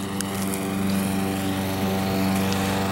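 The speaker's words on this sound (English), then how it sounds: "Lots of lawnmowers, so you'll hear lots of that." Lawn mowers run outdoors along a residential walk, a steady droning engine hum that stays constant and fairly loud throughout, with no speech.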